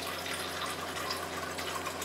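Water is poured into a pot of Japanese curry, giving a steady, continuous splashing rush with no pauses, close and fairly loud throughout.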